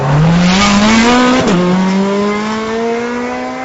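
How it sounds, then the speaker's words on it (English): A 2009 Ferrari 430 Scuderia engine driving hard, a loud close rising howl that climbs in pitch, dips sharply at a gear change, then climbs again with strong harmonics, no talking. "the engine makes the most astonishing noise. It really does sound like a race car for the street."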